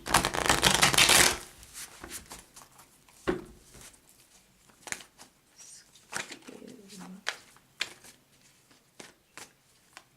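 A deck of tarot cards is shuffled in a quick loud riffle, followed by sparse soft card taps and handling with faint bird cooing in the background.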